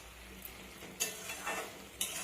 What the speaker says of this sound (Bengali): হলুদের গুঁড়োটা দিয়ে পর আবারও আমি এইভাবে মিশিয়ে নেব।